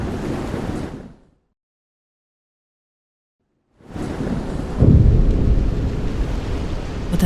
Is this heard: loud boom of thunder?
yes